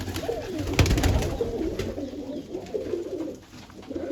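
Pigeons coo in low, rolling phrases that repeat steadily nearby, soft but clear against faint background noise.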